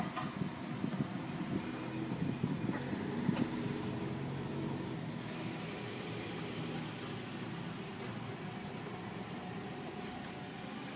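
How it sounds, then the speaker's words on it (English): A car idles at a McDonald's drive-through at night, a steady low engine rumble with a faint hiss over it and a few brief knocks, no voices. "Drive through."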